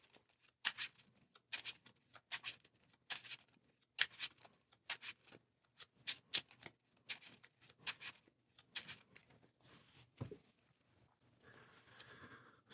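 A deck of Marvel Champions cards is shuffled on a tabletop, a series of quick riffling bursts repeating in a steady rhythm, close and fairly quiet, followed by softer handling sounds.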